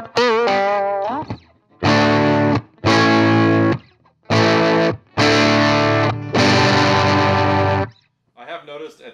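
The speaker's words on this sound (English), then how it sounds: "at these higher volumes it tends to get a little muddy, so it has some cool sounding distortion" Fender 5F1 Champ tube guitar amp pushed to high volume, giving thick, slightly muddy overdriven distortion; loud sustained chords and notes ring out in several bursts separated by short gaps, with lighter playing at the start and end.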